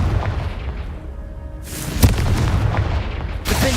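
A Confringo spell explosion in the video game Hogwarts Legacy, a loud fiery boom with a sharp impact midway, then crackling bursts over a rumbling background, no talking.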